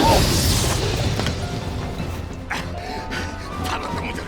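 A heavy booming cannon blast in Final Fantasy XIII opens loudly, then a dense rumble slowly fades, with faint clanks and mechanical noises behind it.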